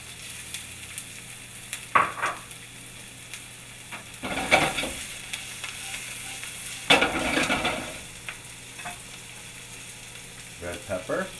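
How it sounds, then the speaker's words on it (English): Onion sautéing in a hot pan for a frittata, a steady sizzle and crackle throughout with louder bursts of stirring or scraping around a few moments, no talking. "we're going to go ahead and saute some onion"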